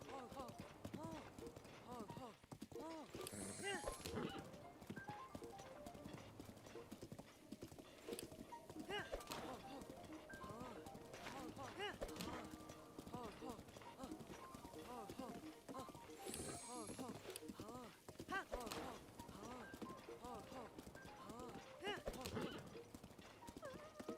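Hooves from a horse ridden in a Zelda video game clip-clop steadily in a rapid galloping rhythm throughout, joined by occasional whinnies, while a person talks over the gameplay.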